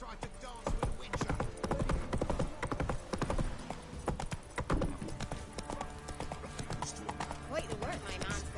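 Roach, a horse in The Witcher 3, runs with quick, uneven clip-clop hoofbeats and an occasional whinny, while game voices talk over the hooves.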